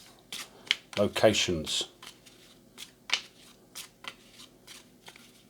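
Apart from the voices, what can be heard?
shuffling tiles of the Airborne In My Pocket print-and-play game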